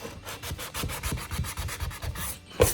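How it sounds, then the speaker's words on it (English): A sanding sponge rubs back and forth in the corners of a wooden cabinet, making a close, steady series of quick scratchy strokes in a regular rhythm, with a sharper knock near the end. "I need to get to the corners right here, so I'm going to sand in there."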